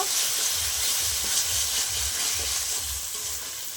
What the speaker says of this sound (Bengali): কাশ্মীরি লঙ্কার গুঁড়ো দিয়ে দেবো অল্প করে মশলাটা কষিয়ে নেব